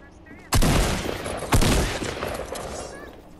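Two loud gunshot bursts ring out in Fortnite, one at about half a second and another a second later, each leaving a long decaying tail under a low background hum.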